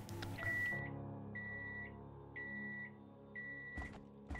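Microwave beeping in a video game: a sequence of four evenly spaced electronic beeps at a steady pitch, clear and moderately loud over a quiet background hum.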